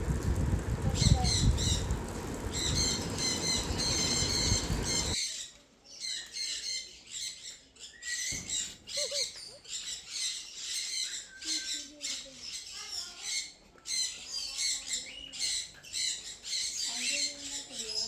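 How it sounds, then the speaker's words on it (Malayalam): Loud, harsh bird squawks at first over a dense rumble, then a rapid series of shrill calls and chirps from several birds, close by. "അങ്ങനെ ഒരു വെറൈറ്റി ഓഫ് കുറേ പക്ഷികളുണ്ടായിരുന്നു."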